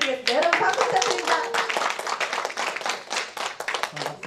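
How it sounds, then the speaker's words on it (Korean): An audience at a Korean ink-painting cultural event claps in a brisk, close burst of applause that continues throughout, with a voice speaking over the start. "여러분 박수 부탁드립니다."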